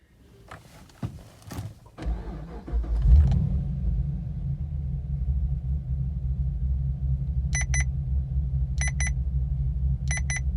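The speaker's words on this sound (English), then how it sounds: "Now if you start the car," A Holden VF Commodore is started: a few clicks and thumps, then the engine catches and settles into a steady, close rumble at idle, with short repeated chime beeps sounding over it later on.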